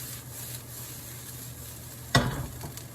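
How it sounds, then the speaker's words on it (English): Cauliflower with curry powder is stirred and toasted in a pan, giving a quiet steady sizzle with a soft scraping stir near the end, no talking. "Stir that around. I'll toast it a little bit."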